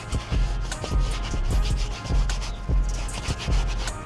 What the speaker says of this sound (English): following up with our detail brush, getting nooks and crannies